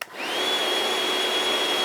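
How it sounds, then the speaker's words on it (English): A RIDGID shop vacuum runs steadily after a quick start-up, its loud continuous roar carrying a high whine that rises and then holds. "it's a little bit louder. Listen again."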